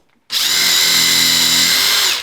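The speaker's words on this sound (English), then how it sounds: "Pre-drill here with this, change the bit out, and put a screw in." A power drill pre-drills a pilot hole into a kitchen cabinet face frame, starting abruptly, then whining loud and close at a steady speed for about two seconds before spinning down.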